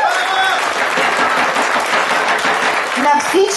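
A festival crowd giving sponsors loud applause, a dense sustained wash of clapping from many hands filling the space, with a voice faintly heard toward the end.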